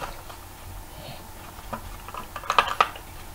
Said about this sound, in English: Sounds like pencils.